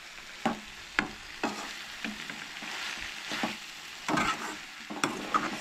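Onions and tomatoes sauté in a pan for Goan chole, with a soft, steady sizzle. A spoon scrapes and stirs at intervals, about once per second, close by and fairly quiet, with no talking.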